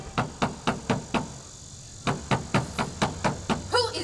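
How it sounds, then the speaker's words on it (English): Hard, loud knocks on a door in two bursts of evenly spaced blows, about six before a short pause and eight after, with a faint voice at the very end. "The master knocked the door hard."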